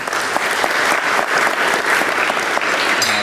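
An awards banquet audience claps steadily, a dense, even wave of applause that holds for a few seconds without voices over it.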